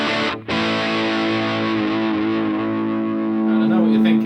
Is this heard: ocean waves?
no